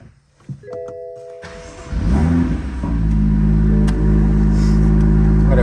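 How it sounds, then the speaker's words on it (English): A BMW M2 fitted with an aftermarket intake cranks over after a few electronic chimes, catches with a loud rising roar, then settles into a deep steady idle, close and loud. "Now let's go ahead and crank this thing up and see how this intake sounds on this M2."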